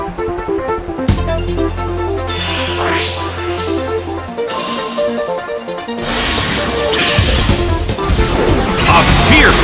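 An attack hits Toxicroak in the Pokemon Battle Revolution video game: a heavy crashing impact effect among swooshing electronic battle sounds and game music, with an announcer voice over it.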